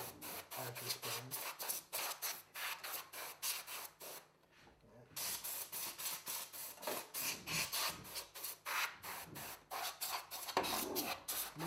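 Compressed air sprayed in repeated short hissing bursts into a computer case lying on its side, blowing dust out of the fan vents, with a brief pause midway and steady close bursts throughout.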